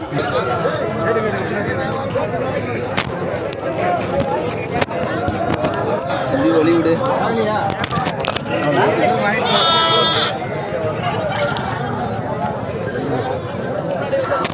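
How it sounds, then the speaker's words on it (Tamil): Young goats bleat repeatedly amid a busy, noisy crowd at the weekly Kavundapadi livestock market in Tamil Nadu, with people talking loudly throughout. "அழகழகான குட்டியான ஆட்டுக்குட்டிகள் பார்த்தீங்கன்னா உங்களுக்கே தெரியும்"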